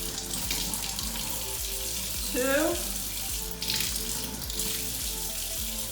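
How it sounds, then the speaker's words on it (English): Water spooned onto ground flax seed in a home kitchen for vegan pancakes, a steady soft trickle and splash heard close under room noise, with a brief voice counting in the middle. "To this ground flax seed, we're gonna add 3 tablespoons of water."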